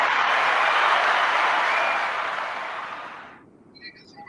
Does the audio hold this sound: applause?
yes